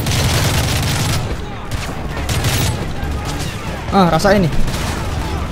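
Rapid gunfire in Call of Duty Modern Warfare 3, loud continuous shooting with booming blasts, and someone speaks briefly over it partway through.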